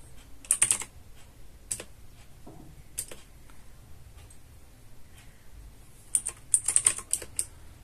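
Commands typed on a computer keyboard: clusters of quick clicky keystrokes near the start and end with scattered single taps between, close and fairly soft over a quiet room hum.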